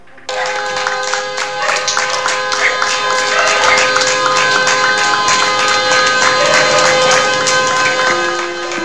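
Applause and wailing sirens fill the streets of Iquitos, Peru, during a funeral procession for doctors who died of COVID-19. Sustained clapping and crowd noise mix with steady, tonal siren wails that carry loud and continuous.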